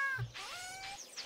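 A kitty cat meows in a Stardew Valley game, two or three close, clear rising and falling mews with a short pause between them and no talking over them.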